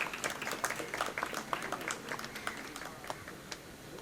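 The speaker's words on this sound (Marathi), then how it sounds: "प्लीज टाळ्या व्हाव्यात." A ceremony audience at a physicians' felicitation event in 2021 breaks into scattered clapping, with uneven claps that start strong and thin out over a few seconds, and there is no talk over it.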